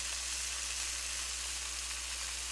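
Fried bologna sizzles steadily in a hot pan, a continuous even crackle and hiss with no voices over it.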